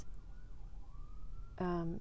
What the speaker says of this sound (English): here's ambulances that coming this way